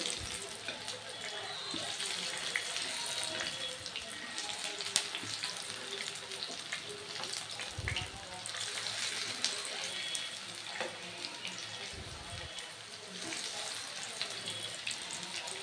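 Onion and potato chops fry in hot oil, giving a steady dense sizzle that runs throughout, with a few low bumps as pieces shift in the pan, close and fairly quiet.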